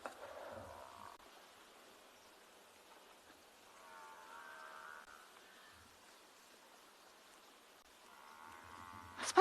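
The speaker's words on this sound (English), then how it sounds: "Can you all hear this mooing? We're surrounded by this low, yeah, I suppose I can't call it anything apart from mooing" Buffalo lowing at sunset on safari: a few faint, drawn-out moans come from some distance, separated by quiet stretches, against a soft outdoor background.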